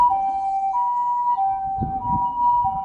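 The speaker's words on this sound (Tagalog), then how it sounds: "Ambulansya." An ambulance siren wails in a steady two-tone alternation on an Osaka street, loud and close, with faint traffic rumble underneath.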